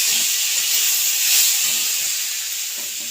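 Soaked masoor dal sizzling in a hot pan as it is stirred, a loud, dense, continuous hiss with faint low scraping underneath, close up and without talk.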